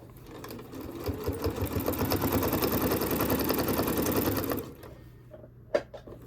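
Sewing machine running fast stitches along the edge of a towel, a rapid buzzing chatter for about four seconds that stops abruptly, followed by a couple of soft clicks.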